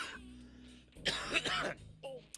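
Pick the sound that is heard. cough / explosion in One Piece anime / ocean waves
cough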